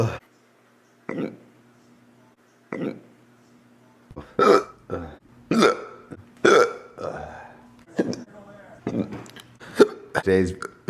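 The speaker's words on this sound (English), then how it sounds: "I hate hiccups." A person hiccups repeatedly at close range, each hiccup a short, sharp burst. The bursts come irregularly, sparse at first and then in quicker succession, with no talking.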